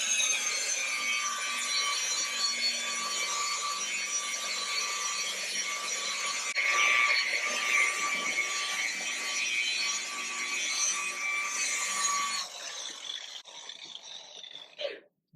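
Steady wet sanding of a car's clear coat with 1600-grit paper, a continuous close rasping rub that runs unbroken for most of the stretch before thinning and stopping near the end.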